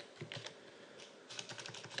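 Keystrokes clatter on a computer keyboard in two short bursts of quick, close taps, with a brief pause between them and no voices.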